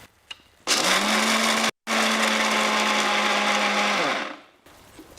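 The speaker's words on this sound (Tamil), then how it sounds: "மிக்ஸியில் ரொம்ப வலுவலுன்னு அரைக்கக்கூடாது, சும்மா லைட்டாக 2 சுற்று சுற்றுனீங்கன்னா" A mixer grinder grinding dried spices whirs loudly in one steady burst, stops for a split second, then runs again before spinning down to quiet.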